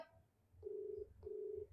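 A phone ringback tone sounds twice, two steady electronic beeps separated by a short pause, fairly quiet with no talking.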